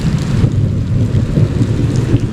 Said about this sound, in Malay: Hujan ni.